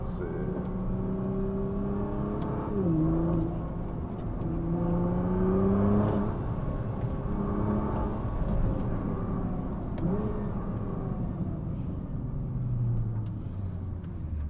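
Nissan GT-R Nismo accelerating hard, heard from inside the car as a whirring engine that climbs in pitch through the gears, with sharp drops at each shift, under steady road rumble.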